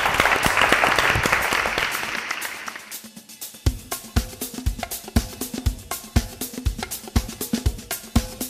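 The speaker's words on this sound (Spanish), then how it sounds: "aplausos, muchas gracias" An audience at a ballet studio performance applauds, a dense wash of clapping that fades after about three seconds into sparse, rhythmic individual claps continuing to the end.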